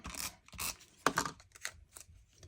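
Tape is pulled and pressed onto a scrapbook page in several short, close rasping bursts with brief pauses between them, quiet overall and without any talking.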